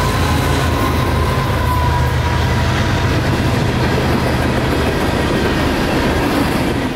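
A freight train bound for Miami rolls past close by near Plant City, Florida, with a loud, continuous rumble and clatter of wheels on rails and a faint squeal, with no pause throughout.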